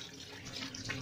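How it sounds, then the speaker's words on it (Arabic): Tap water runs steadily from a kitchen faucet into a sink while a tilapia fish is rinsed under the stream, a continuous close hiss with slight splashing changes and no talking. "لا انا بحب اغسله كده تحت الحنفية اهو"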